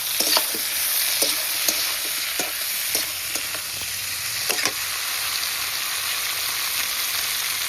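Pre-fried vegetables and tomatoes stirred in a pan for a cauliflower and fresh fish curry, giving a soft, continuous sizzle with occasional scraping ticks from the spoon.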